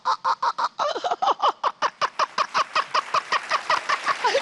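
A person imitates a chicken with a quick run of about twenty rhythmic, clucking vocal bursts, loud and close, with a few squawkier notes near the start and a rising cackle at the end.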